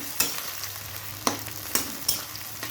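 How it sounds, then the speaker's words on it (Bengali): Chopped onions fry in a pan with a steady low sizzle, while four distinct clinks of the spatula against the metal pan fall at irregular intervals, close and alone with no talk. "এবার পেঁয়াজটা ভেজে নিব।"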